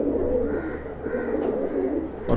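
A Madrasi pigeon gives soft, low, rolling coos in a steady repeating rhythm at close range, with faint background rustle and a brief knock at the end.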